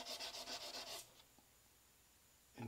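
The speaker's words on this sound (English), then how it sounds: "get some 2000 grit sandpaper. Just go over it like so" Fine 2000 grit sandpaper rubbed back and forth across the edge of a clutch plate from a GM NP246 clutch pack, giving about five quick, close rasping strokes for a second, then near silence before a brief soft scrape.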